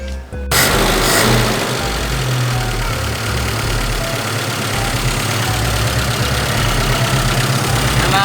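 A long-stored Mitsubishi Pajero engine turns over and catches after a brief pause, then settles into a loud, steady, close-up idle with a rough low rumble for several seconds.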